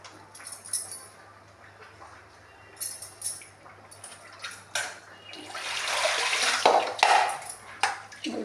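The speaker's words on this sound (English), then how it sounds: "you have to pour water." Water poured and splashing near a well, building into a steady, louder gush midway with a few faint clinks of pots or dishes around it.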